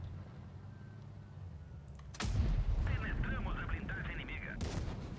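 Tank cannon fire in World of Tanks Blitz from a SU-85B tank destroyer, a sudden heavy boom that cuts into a low engine rumble and is followed by ringing, rumbling battle noise. A second blast comes near the end, and a player talks over the action.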